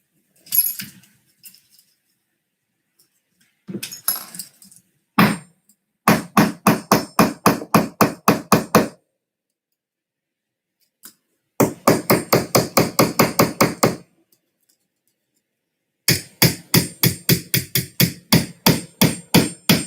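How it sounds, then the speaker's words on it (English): Metal tool striking blind nuts on a Beechcraft Bonanza engine mount in a workshop, sharp clear metallic taps in rapid rhythmic bursts of about a dozen hits each, separated by silences, close and loud. "Try and get under it with a screwdriver."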